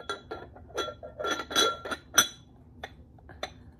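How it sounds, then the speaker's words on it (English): A thick carnival glass butter dish and its lid clink together in a series of sharp, close ringing taps, some rapid and some spaced apart, with no talking. "Beautiful, beautiful glass carnival. Carnival glass butter dish."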